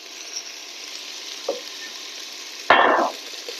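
Broad beans dropped into a hot pan for katla fish curry, starting with a small clink and then a sudden loud burst of sizzling frying that slowly settles into a steady hiss, close by with no talking.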